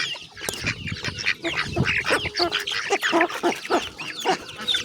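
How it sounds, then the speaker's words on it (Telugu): Ducklings, chickens and guinea fowl peep and honk in a busy overlapping chorus close by, with scattered calls throughout. "బుజ్జిబాతు పరిగేసుకుంటూ వస్తుంది"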